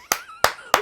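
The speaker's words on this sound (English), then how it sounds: "A moment of applause." Three separate, close hand claps in a quick uneven rhythm, sharp and dry, heard alone in a radio studio interview.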